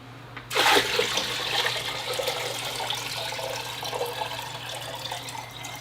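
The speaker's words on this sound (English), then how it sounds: "The last bucket full in my barrel." A bucketful of fertilizer-laced water is poured into a nearly full rain barrel, starting with a loud splashing rush and settling into a steady, close pouring gush that continues to the end.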